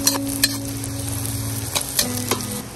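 Garlic and onion frying in a pan, a steady sizzle with a few sharp scraping knocks of a utensil as they are stirred.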